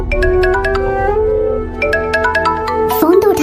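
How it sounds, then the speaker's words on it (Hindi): A phone ringtone chimes in a repeating melodic pattern of bright tones over a film soundtrack with background music, loud and close, with a voice joining near the end. "फोन तो उठा ले।"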